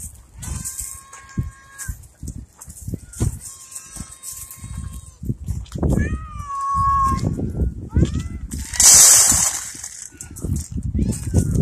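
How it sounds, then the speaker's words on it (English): Cats and kittens meow repeatedly at feeding time, with several high plaintive calls, under and between a woman's close, steady talk and some handling noises and rustling. "Oh, you little kittens are so cute."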